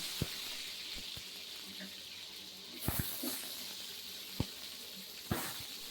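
Half a kilo of onions and green chillies fry in a pan for a country chicken curry, a faint steady sizzle with occasional sharp clinks and scrapes of stirring.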